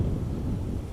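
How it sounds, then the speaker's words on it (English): Low rumbling wind buffets a microphone outdoors at Amsterdam Schiphol Airport, a steady close roar with no voices. "Wind is picking up a little bit"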